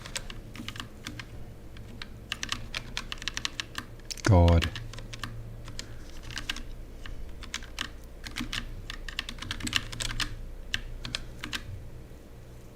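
Steady clicking of keys typed on a computer keyboard during Neovim coding practice, close and continuous with a brief loud burst partway through as a voice utters a single word.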